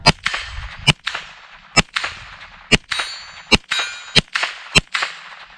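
Sharp metallic clangs of .22 bullets from a Tippmann Arms M4 22 Pro rifle hitting a steel gong, about eight impacts spaced irregularly over several seconds, each ringing briefly with faint background noise between.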